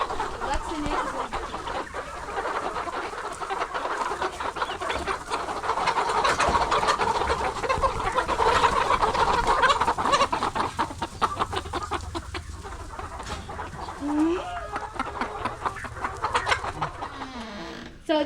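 Backyard chickens cluck and call steadily at an urban poultry farm, a near, busy flock murmuring with scattered sharper squawks over about eighteen seconds, with no talking.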